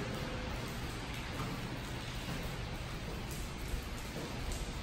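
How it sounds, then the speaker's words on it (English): Steady rain falls in a dense, even hiss with faint patter, continuous and fairly quiet, with no voices. "You know it's raining outside."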